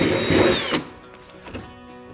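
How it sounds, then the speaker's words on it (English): A power drill with a 3/8 inch bit bores up through a hole from underneath during ice shack assembly. A loud close whine lasts under a second, then cuts off, leaving a quieter tail with faint knocks. "And again, drilling from the underneath seems to work best."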